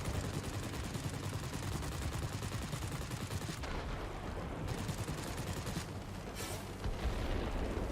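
Rapid aircraft machine-gun fire in the World of Warplanes combat flight game, a dense continuous rattle mixed with engine roar that fills the whole stretch, briefly easing midway before resuming, with no talk.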